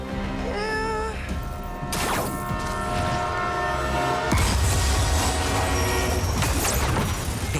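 A runaway train barrels along in the Spider-Man 2 video game, a loud steady rumble with a blaring horn-like tone over it and no voices.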